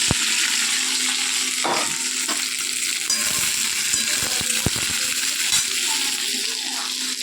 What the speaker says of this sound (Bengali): কড়াইয়ে তেল বসিয়ে দিয়েছে। এই যে ঢেঁড়স ভাজবো।